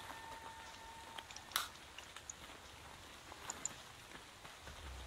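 Steady rain falling at night in ARK Survival Evolved, a continuous soft hiss with scattered light taps and crackles, heard alone at low volume.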